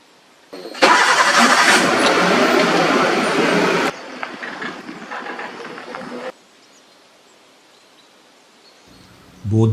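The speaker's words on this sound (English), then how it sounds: "Both the vehicles are backing off to make space for the leopard." Safari vehicles in Tadoba Andhari Tiger Reserve backing away with engines running: a loud close engine roar that drops to a quieter idle, then fades out, with a brief thump at the end.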